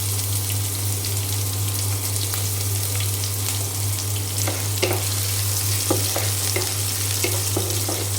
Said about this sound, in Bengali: আমি এখন দিয়ে দিলাম পেঁয়াজ কুচি আর রসুন কুচি